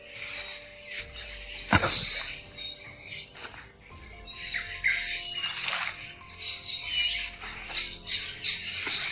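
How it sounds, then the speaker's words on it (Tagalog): Birds squawking outdoors in a run of harsh, raspy calls that come in repeated bursts at moderate distance, with low background rustle between them. "mga ibon ba yun eh"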